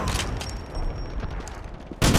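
Rapid bursts of gunfire in the Wolfenstein 2009 video game, a dense fusillade with a sharp loud blast at the end, no talk.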